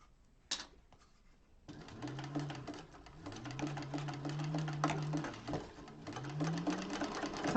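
A home sewing machine stitches a zipper bag, starting after a brief click and then whirring in a steady rapid chatter with rising motor hums, close and fairly quiet.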